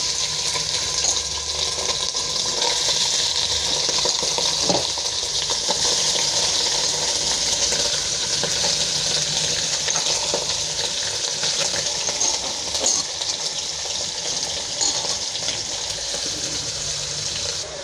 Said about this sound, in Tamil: இப்போ குக்கர் வச்சுட்டு குக்கர் ஹீட் ஆனதும் எண்ணெய் காஞ்சதும் மட்டன் போட்டுக்கலாம்